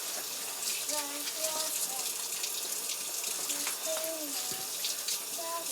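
Water runs from a tap in a steady hiss as small hands are washed with soap, while a child and an adult chat quietly over the flow.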